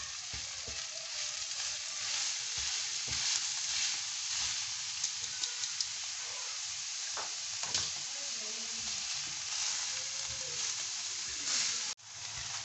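Minced meat (keema) sizzles and hisses steadily in a pan, with occasional stirring scrapes and clicks, close and fairly quiet, ending in a brief clatter.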